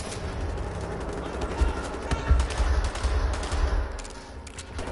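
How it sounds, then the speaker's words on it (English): Hip-fired gunfire in the video game Wolfenstein on PS4: dense, rapid bursts of shots with booming low thuds, continuous and loud across the whole stretch, with no voices over it. "I can just fire from the hip with this one."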